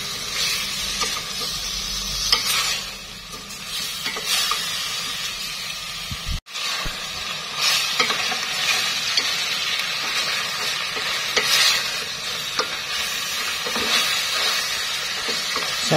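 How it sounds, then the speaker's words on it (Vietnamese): Roast pork is stirred and fried in a pan. A continuous loud sizzle and hiss runs throughout, with spatula scrapes at intervals and a brief drop-out partway through. "Mình đảo đều lên cho thịt nó thơm lên."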